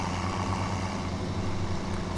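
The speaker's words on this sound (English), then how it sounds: "Tractor coming through." Tractor engine in Farming Simulator 2017 drones steadily and loudly throughout, a continuous low rumble with no talk.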